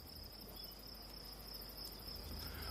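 A dense swarm of Mormon crickets gathered at a mating site, a continuous shrill insect chirring with a steady high buzzing tone layered over a constant hiss, unbroken and moderately quiet throughout with no voices.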